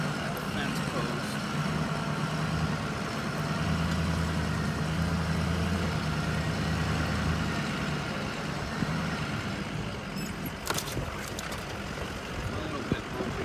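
Truck engine idling and rumbling low and steady while approaching the southern border fence, a continuous close drone with a few brief knocks near the end.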